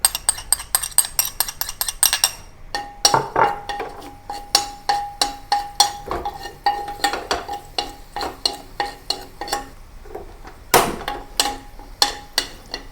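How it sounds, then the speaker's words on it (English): Garlic sautés in shrimp-flavoured oil in a wok for a Chinese garlic shrimp stir-fry, with a steady run of sharp utensil scrapes and clinks against the pan over a low sizzle, close and fairly loud. "to saute the garlic"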